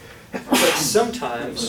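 A single sneeze breaks out in a lecture hall, fairly near and sharp, while a lecturer keeps talking around it.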